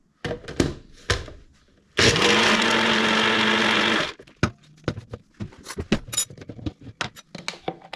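A NutriBullet blender whirs loudly for about two seconds blending strawberry mint ice cream with sweetened condensed milk, preceded and followed by close rattling, shaking and knocking of the cup.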